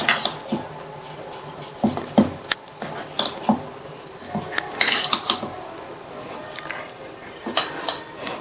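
Appam batter gets stirred smooth in a bowl, producing quiet, irregular clinks and scrapes of utensil against the bowl with soft squishy sloshing between them, all fairly close and unhurried.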